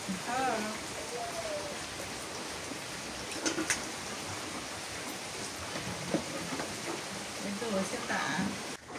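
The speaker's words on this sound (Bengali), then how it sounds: "বৃষ্টি বৃষ্টি না ভালোই শুরু হলো মা" Steady rain hisses down throughout, with faint voices and occasional clatters rising over the constant wash of falling water.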